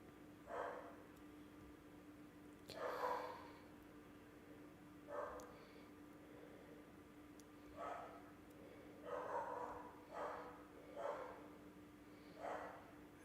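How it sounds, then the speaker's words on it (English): A dog barks repeatedly in the background, short bursts arriving in irregular pairs and singles across the stretch, moderately loud over a steady electrical hum in a room where a live football watchalong is being streamed. "I do apologise if you can hear my dog in the background"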